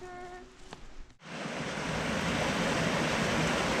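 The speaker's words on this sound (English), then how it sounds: "I hear water." Water flows near a forest campsite in the Adirondack High Peaks. After a quiet start, a broad, steady rushing sound rises suddenly and stays strong to the end.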